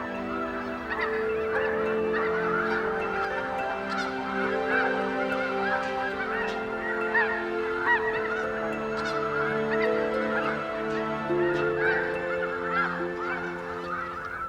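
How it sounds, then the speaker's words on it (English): A large flock of snow geese arriving in the Arctic to feed and breed. The birds honk continuously, many calls overlapping into a loud, dense, steady chorus with no talking. "Thousands of snow geese arrive from their wintering grounds in the southern United States to feed and breed."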